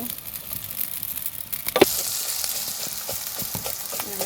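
Turmeric and ground spice paste fry in hot oil in a village kitchen, a close, continuous sizzle with a sharp clatter of a spoon stirring partway through, then the frying carries on.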